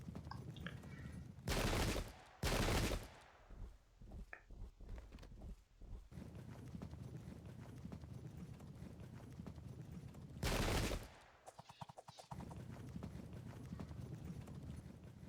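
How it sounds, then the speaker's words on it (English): Cavalry horses gallop into a battle in the Pike and Shot strategy game, a steady rumble of clip-clopping hooves with loud bursts of massed musket fire crashing over it at intervals. "The horse."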